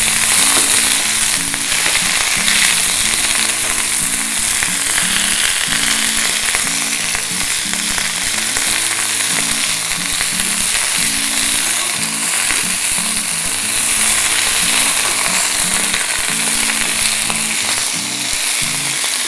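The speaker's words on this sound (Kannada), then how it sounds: "ಇದನ್ನು ಚೆನ್ನಾಗಿ ಹುರ್ಕೊಳ್ಳೋಣ ಇದರ ಹಸಿ ವಾಸನೆ ಸಂಪೂರ್ಣ ಹೋಗೋ ಹಾಗೆ ಫ್ರೈ ಮಾಡ್ಕೊಳ್ಬೇಕು" Herb leaves fry in a hot pan with a steady, loud, continuous sizzle and occasional stirring scrapes, close up and with no voices, lasting throughout.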